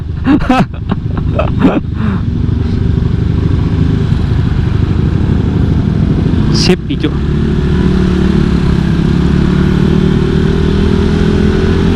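New motorcycle engine running steadily while riding, a continuous loud mid-pitched hum and drone throughout, with wind noise and a brief burst near the start and around seven seconds; a rider speaks briefly.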